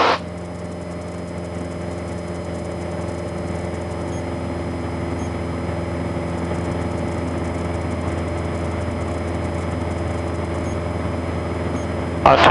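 Piper Cherokee single-engine piston aircraft in cruise at 6,500 feet, its engine droning steadily and loudly throughout with a constant low hum and propeller buzz, unchanging in pitch from start to end.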